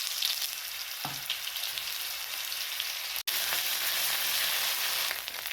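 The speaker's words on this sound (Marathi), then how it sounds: "आता यामध्येच आपल्याला लसूण आणि अद्रक ही पेस्ट घालायची आहे." Garlic and ginger paste frying in hot oil with toasted cumin seeds, a steady close sizzle filling the whole stretch, with a brief stir sound and a momentary break partway through.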